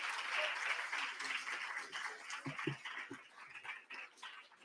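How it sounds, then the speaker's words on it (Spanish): Applause from a crowd, a dense patter of clapping that gradually thins out, with faint voices underneath. "Les pido un fuerte aplauso para Diego Leonardo"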